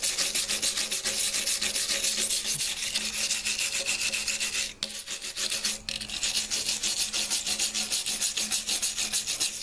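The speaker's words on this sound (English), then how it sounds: "we'll wire brush it" A wire brush scrubs slag from a flux-core weld bead made with a cheap Harbor Freight welder: a loud, continuous, rhythmic rasping close by, with a brief pause partway through before it resumes.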